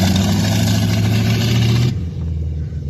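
A Jaguar car engine revs loudly and steadily, then drops abruptly to a lower, quieter idle-like rumble as it is shifted toward reverse, close-up with no talking.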